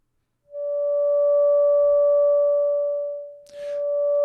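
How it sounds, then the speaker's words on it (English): A bow draws out the natural oscillation of a vibrating system, amplified into a loud, pure sustained tone with a faint overtone above it. The tone dips briefly with a scratchy noise near the end, then swells back. "what's really happening is that the bow is drawing out that natural mode of oscillation of the system"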